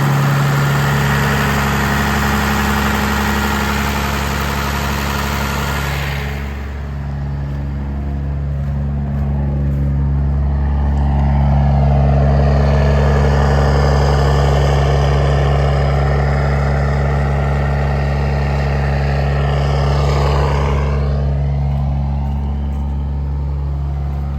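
Valve Cummins diesel engine in subzero weather running steadily at part throttle, a loud continuous low drone with a brief dip midway, then a slightly stronger stretch near the end, with no voices.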